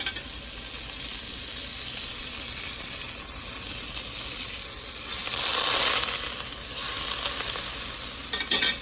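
Butter sizzling in a hot pot before hamburger meat goes in for cheeseburger soup, a steady bright hiss and crackle that swells briefly now and then, with no talking.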